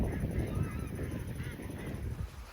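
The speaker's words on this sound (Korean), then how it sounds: "역대급 새들의 모임을 보고 계십니다." Large flock of geese and other waterbirds gathered at Suncheon Bay wetland in South Korea, a dense chorus of distant honking calls over a low rumbling outdoor background.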